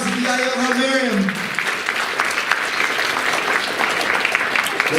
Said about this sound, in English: Let's give a round of applause to EIL Halmariam.